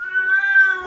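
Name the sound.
cat meowing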